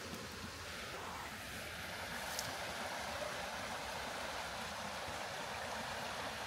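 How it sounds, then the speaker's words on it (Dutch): A small brook runs beside a campervan parking spot, its steady broadband rush of flowing water continuous and fairly close, with no voices over it. "Bij een heel mooi beekje."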